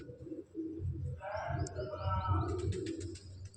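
Pigeons coo and call softly in repeated low throaty bursts, with a few higher chirps mixed in, fairly close.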